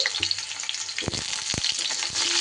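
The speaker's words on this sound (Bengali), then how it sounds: "এবার আমি এই তেলের মধ্যে সবজিগুলো এক এক করে দিয়ে দিই সবার প্রথমে আলুটা দিয়ে দিচ্ছি" Potato and other vegetables go into hot oil one at a time and fry with a loud, continuous crackling sizzle, punctuated by a few sharp thuds and scrapes close by.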